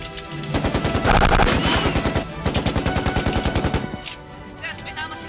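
Rapid automatic gunfire crackles through a film's assault scene, with dense bursts of machine-gun fire that pause and then resume loudly, and a few faint shouts in the mix.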